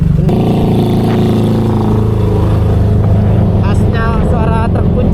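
Trucks grind along the Puncak mountain road in a loud, close, low engine drone, with one engine revving and shifting, heard from a touring vehicle amid traffic, with people talking in the background.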